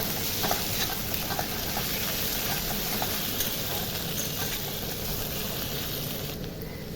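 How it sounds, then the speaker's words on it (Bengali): Ginger and garlic fry with onions in a pan, a steady, fairly loud sizzling hiss running throughout with faint scrapes from stirring. "আদা রসুনগুলো ভালো করে আমি ভেজে নেবো পেঁয়াজের সাথে, এইভাবে লেড়ে লেড়ে"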